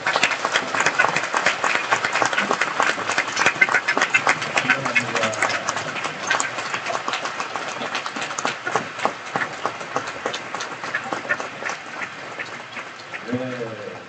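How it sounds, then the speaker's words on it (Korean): Sustained applause from a large church conference audience with attendees from across the country, a dense steady clapping wash lasting throughout, with a voice speaking faintly over it near the end. "컨퍼런스 참석하신 분들을 위해서 박수 한번 드립니다"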